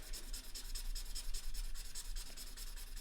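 An alcohol-based marker nib rubs steadily back and forth over paper to blend colours, a continuous close scratchy swishing with quick repeated strokes and no talking.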